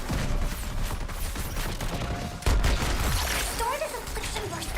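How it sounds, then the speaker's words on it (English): Continuous rapid gunfire from an infinite-ammo weapon in the Suicide Squad video game, a dense crackling stream of shots mixed with game effects and a talking voice. "Got the infinite ammo popping off."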